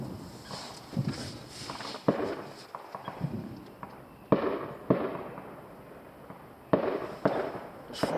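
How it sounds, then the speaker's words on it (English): Fireworks or explosions go off nearby during a bushcraft overnighter outdoors, with a series of sharp, irregular bangs and cracks, some close and loud, others fainter, punctuating a quieter background. "There's fucking bombs going off everywhere here"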